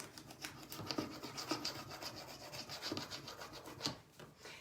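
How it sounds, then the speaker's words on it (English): Rubbing strokes of a burnishing tool pressing a floral transfer onto a wooden dresser, a steady close scratchy friction with several firmer swipes standing out, no talk. "I just want to go through and make sure that I really burnish it well, that it's applied to the dresser"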